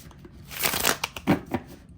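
A tarot card deck being shuffled by hand, a quick run of crisp riffling and papery slaps close up, ending in a few sharper taps.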